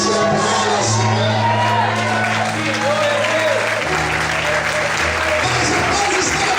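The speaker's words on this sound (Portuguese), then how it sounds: "Quem crê, dá glória a Deus e aplauda, Senhor." A church congregation applauds loudly during a sermon, sustained clapping with scattered cheers and shouts, while an organ or keyboard holds low chords underneath and voices call out through the noise.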